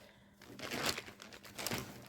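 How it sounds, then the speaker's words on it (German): A resealable plastic zip bag crinkles while cross-stitch supplies are unpacked, with close, irregular bursts of crumpling and rustling after a brief quiet start, no talk. "Es ist wieder verpackt in dieser wiederverschließbaren Zip-Tüte."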